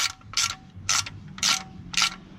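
A hand ratchet snugging up oil change bolts, four quick bursts of rapid metallic clicking spaced about half a second apart, close and clear with no talk.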